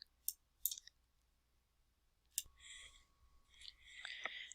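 A few sharp, isolated mouse clicks while confirming a dialog in drafting software, two close together, then a third after a pause, followed by faint scattered desk and computer noises.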